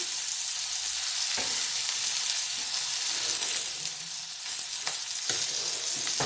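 Capsicum fries in a pan with a steady bright sizzle and occasional stirring scrapes, heard close and alone.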